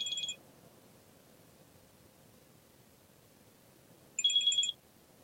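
A phone rings in two short, bright electronic bursts during a Total War: Attila game session. The bursts come about four seconds apart, each a warbling, beeping trill, with only quiet background hiss between them and no voices.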